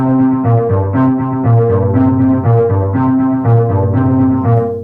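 A keyboard's phrase pad sequencer loops a repeating pattern of synth notes over a steady bass, even rhythm, loud and continuous with no talking.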